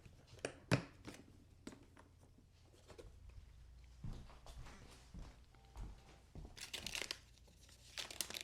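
Sheets of paper are handled and crumpled close up, giving irregular crinkling and tearing bursts with brief pauses and soft rustles between them.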